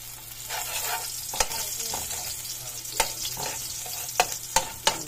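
Garlic frying in oil in a wok for squid adobo, with a bright constant sizzle and several sharp clinks and scrapes of a utensil against the pan.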